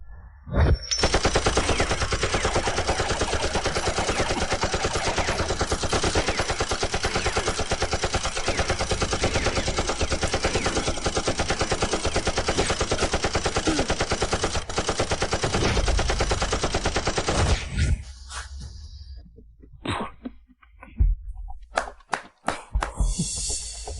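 Many machine guns fire together in a long, relentless barrage that stays loud for around eighteen seconds, then breaks into scattered, sharp bursts and single shots before fading out.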